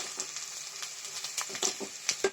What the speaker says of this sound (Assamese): আদাৰ কেঁচা গোন্ধটো যোৱালৈকে এনেকৈ অকণমান দেৰি ভাজিম